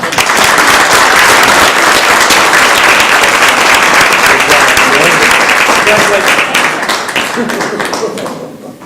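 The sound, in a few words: council meeting audience applause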